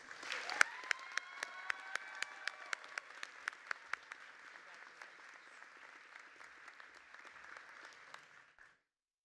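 Audience applause welcoming a student speaker at a 2025 commencement ceremony, with sharp individual claps over a steady crowd roar that swells early, holds for several seconds, then fades away.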